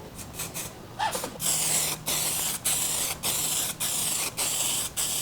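Short bursts of an aerosol paint can, warmed first, hiss in a quick rhythmic series of close, loud sprays with brief gaps, touching up headlights on a 1995 Honda CR-X.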